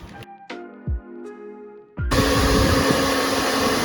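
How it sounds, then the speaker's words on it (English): After a few clinks and knocks, a kitchen grinder whirs loudly to life, grinding chopped onions into a chili paste for sambal, its steady motor whine and blade buzz continuing unbroken. "we will be peeling these onions and peeling and cutting in small pieces so that we can grind it in the grinder"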